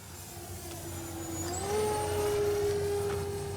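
The electric motor of a Durafly FG-1 Corsair RC model airplane in flight whines steadily at a distance, its pitch rising as the plane passes and the sound swells slightly louder.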